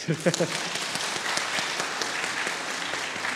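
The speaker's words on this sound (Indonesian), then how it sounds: "boleh kalau mau tepuk tangan." Members of a church congregation applaud at a Sunday service for the installation of elders, a brief voice at the start and then soft, even clapping from many hands that continues steadily in the hall.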